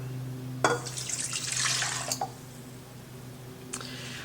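Warm water runs from a kitchen tap for about a second and a half, a steady splashing gush that then stops, with a faint drip or clink afterward in a quiet room.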